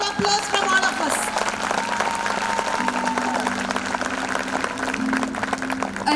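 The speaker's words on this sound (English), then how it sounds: "I think they deserve a big round of applause from all of us" Audience applause at a school function for young students, a sustained dense patter of clapping from a large crowd, steady and moderately loud, with a sustained musical tone and voices mixed in.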